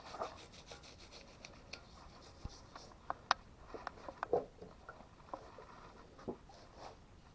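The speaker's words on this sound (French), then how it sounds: "ça fait peut-être 15 minutes que je frotte" Faint scrubbing and rubbing on parts of a Mercedes OM603 diesel engine during a rebuild for a W124 300D, with scattered light scrapes and taps in a quiet space.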